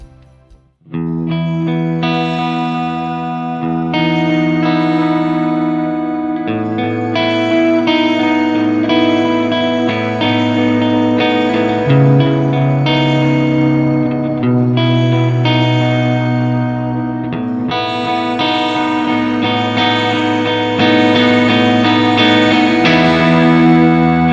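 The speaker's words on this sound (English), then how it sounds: "Second of the reverbs that I love the most is the shimmer, and it sounds like this." Sustained electric guitar chords ring out through a Strymon BigSky shimmer reverb, washed in lush, shimmering reverb that adds bright tones an octave or two above the notes.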